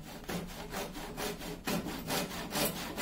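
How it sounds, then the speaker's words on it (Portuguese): A hand saw works through a wooden recliner chair leg in steady back-and-forth strokes, each rasping pass clearly audible and close, with no talking. "para iniciar o corte, inicie sempre na parte mais larga do serrote para você conseguir o melhor alinhamento"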